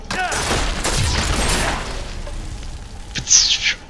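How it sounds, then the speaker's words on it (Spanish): A charge attack sound effect from the Diablo 3 video game bursts out with a rushing, crackling impact and a bright ringing tail near the end, loud and up front. "Ese es el sonido de la carga."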